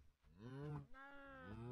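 Cows in Minecraft (Feed The Beast modpack) moo in a pen, two or three long, loud, drawn-out lowing calls that overlap closely without pause.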